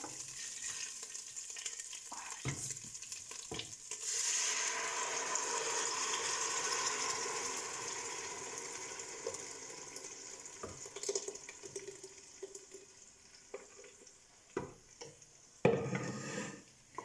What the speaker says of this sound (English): And now I'll add in the tomato, the ground tomato.